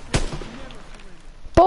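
A sharp sniper rifle shot rings out in a WWII video game, a loud broadband crack with a brief decaying tail, followed near the end by a second abrupt blast as a voice begins.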